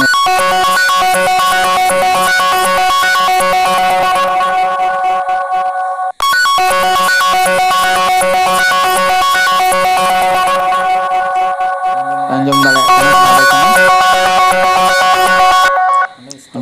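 A smartphone ringtone plays loudly and close, a bright repeating electronic melody that stops briefly, restarts, then shifts to a different tone before cutting off near the end.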